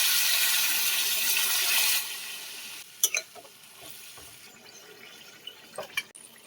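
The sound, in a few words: water being added to a prawn and banana flower curry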